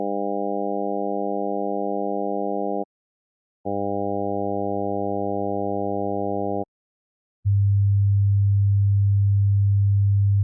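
Pure electronic sine tones in three steady blocks: first a stack of harmonics at 200, 300, 400, 500 and 600 Hz alone, then the same stack joined by a 100 Hz fundamental, and finally the 100 Hz fundamental by itself, with brief silences between blocks.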